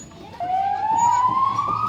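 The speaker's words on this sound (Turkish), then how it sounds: "Ambulans geçerken öyle diyorduk." An ambulance siren in a park sets in abruptly and holds a steady rising wail, fairly loud and continuous over low background noise.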